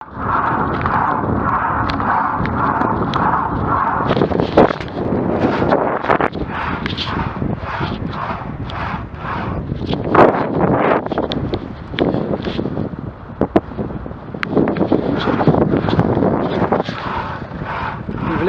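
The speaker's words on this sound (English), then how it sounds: "We've had a terrible headwind." Strong headwind buffeting the microphone while riding an ElliptiGO bike through Perth and Kinross in Scotland, a loud, continuous rushing roar with gusty surges and thumps throughout, no voices.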